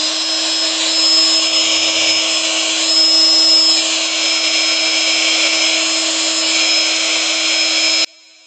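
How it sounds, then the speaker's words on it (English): A pump runs off an Oupes 1200W power station, giving a loud, steady motor drone with a whine on top that holds for about eight seconds and then abruptly cuts out. "So let's go ahead and turn on the pump here."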